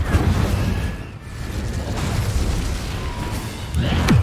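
A Confringo blasting spell explodes in Hogwarts Legacy, a loud booming burst over a continuous rumble of game combat, with a sharp whooshing sweep near the end.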